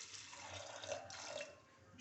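Water pours quietly into a pressure cooker holding 150 grams of soaked chickpeas, a soft, faint, steady splashing trickle with no talking.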